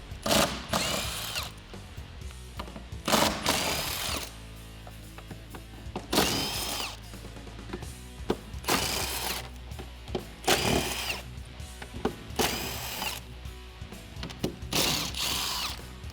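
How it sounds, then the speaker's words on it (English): A 13mm socket tool spins out the bolts holding the tire carrier on a Jeep Wrangler JL, sending loud close bursts of whirring interspersed with ratcheting clicks and short pauses. "we can remove the bolts that are holding on our carrier with a 13mm socket"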